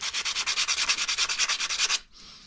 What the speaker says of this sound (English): Now I'm just cleaning up all the rough edges with my 120 grit sandpaper.